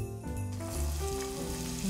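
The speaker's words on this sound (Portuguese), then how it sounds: "a manteiga está na temperatura ideal para a gente começar a refogar o alho poró" Butter sizzling in a hot pan as leeks are sautéed, a brief, steady, close frying hiss with soft stirring.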